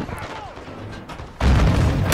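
Booming explosions and gunfire in the Call of Duty: Modern Warfare 2 video game campaign, a muffled rumbling battle that erupts into a heavy, loud blast partway through.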